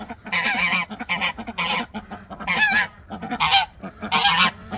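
A pet goose honks repeatedly in short, close bursts, a run of loud nasal calls with brief gaps, alone without talk.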